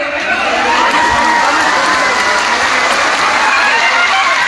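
A large crowd at a religious gathering claps in sustained, dense applause, loud and close, with a wash of crowd voices mixed in throughout.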